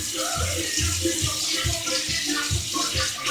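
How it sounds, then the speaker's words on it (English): Water from a tap runs steadily while a cutting board is rinsed under it. Soft splashing comes close by, with a few faint rhythmic knocks beneath. "I'm gonna rinse my cutting board."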